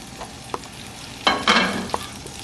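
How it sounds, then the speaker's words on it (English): Thick beef tenderloin steaks searing in hot butter in a pan, a close sizzle that flares in a couple of loud bursts with small pops and clicks between them. "Now these are thick steaks, so patience in browning them and searing them is going to be important."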